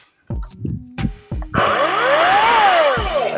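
A few clunks and knocks, then a Ryobi 36-volt battery chainsaw whirs up loudly and runs steadily, its pitch rising and falling as it revs.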